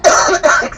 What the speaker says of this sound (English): when you said that, it just made me cough